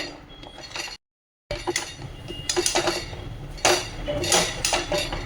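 A spoon scrapes and clinks in a pan as puffed rice is stirred and tossed with jaggery, irregular close metallic scrapes and rustles with a brief dropout.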